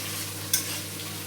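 Garlic and onion stir-fried in a pan for a fish egg chili dish, giving a steady close sizzle with a single sharp scrape or clink of the spatula partway through, no talk.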